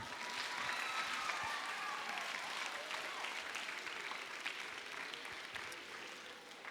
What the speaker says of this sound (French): Et vous pouvez applaudir.